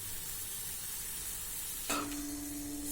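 A small fish curry sizzles steadily in a pan over low heat, a close and even hiss, with a brief tonal ring near the end.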